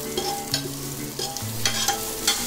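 Carrots and bottle gourd cook in a pan for a mixed-vegetable wheat daliya. Soft sizzling runs beneath repeated scraping stirs, close up and moderately loud.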